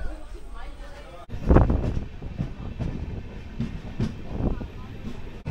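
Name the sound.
train departing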